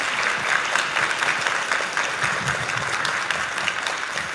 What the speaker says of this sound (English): I want another huge round of applause for our panelists